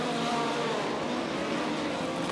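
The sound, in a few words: race car driving on track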